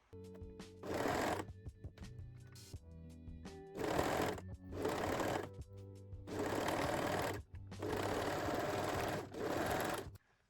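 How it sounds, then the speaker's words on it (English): A serger or sewing machine stitches a seam in high-waist panty fabric, running in five or six steady whirring bursts of a second or two each, separated by short pauses, close and clear with no talk. "Now you can sew the seam using a serger or zigzag stitch."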